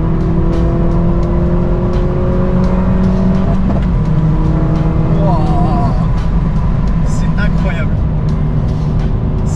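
An Opel Corsa engine revs loudly nearby, pitch rising and falling through several bursts, with people talking excitedly over it.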